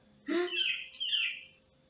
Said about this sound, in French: Il me refait le bruit des mouettes.